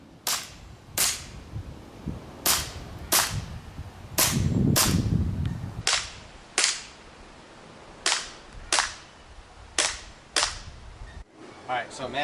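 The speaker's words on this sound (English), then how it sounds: "this is where we're going to shoot with the pistols" A series of pistol shots fired at a family shooting range with targets at about 30 feet, roughly a dozen sharp loud reports spaced about a second apart, with a brief burst of talk or movement in the middle.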